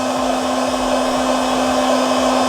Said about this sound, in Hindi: तो दोस्तों अब इसको हम थोड़ा सा सुखा लेते हैं अपनी हॉट एयर गन से।